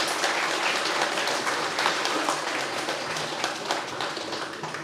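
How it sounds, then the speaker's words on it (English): A room full of people gives a round of applause at a bicentenary celebration, dense steady clapping with no talk, fading slightly toward the end. "a round of applause for them"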